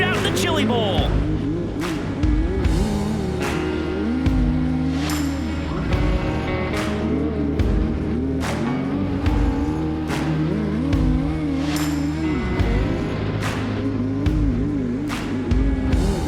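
Race cars in a three-lap shootout at the Chili Bowl Nationals: engines rise and fall as the cars rev, accelerate and sweep past, loud and steady under continuous commentary.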